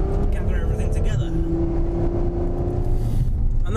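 A Ferrari F12 Berlinetta's engine drones steadily as the car is driven, a loud constant mechanical hum under someone talking throughout.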